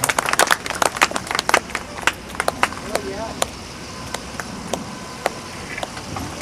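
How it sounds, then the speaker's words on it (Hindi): A meeting audience in India gives loud applause. Sharp, close individual claps come in a quick burst, then thin out into scattered claps alongside talking. "जोरदार तालियां हो जाएं साथियों, जोरदार तालियां"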